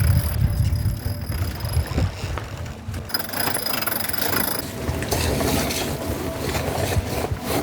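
A sailboat beating full upwind under jib with the engine off in choppy water, steady wind rush and water slapping against the hull throughout, continuous and close with no talking.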